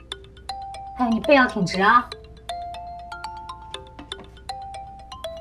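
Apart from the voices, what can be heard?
phone ringtone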